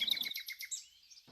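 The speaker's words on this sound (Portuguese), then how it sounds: "Vamos ouvir os pássaros cantando?" Quick, high-pitched bird chirps in a rapid series, bright and close, trailing off into a short tweet.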